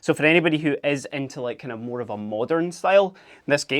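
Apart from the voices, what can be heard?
No everyday noises stand out.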